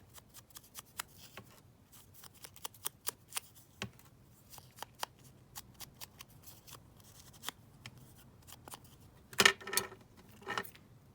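Scissors trimming a 12 x 12 paper collage sheet, a run of crisp close snips and paper rustles, ending in a louder crinkle of handled paper.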